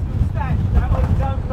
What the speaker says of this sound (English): The wind's playing havoc here at Hartsdown Park.